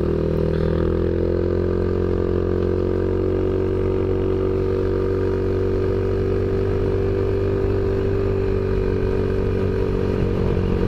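An Ice Bear Maddog scooter engine runs continuously up close, a steady buzzing drone with a pitch that rises and falls slightly over about eleven seconds, and no voices.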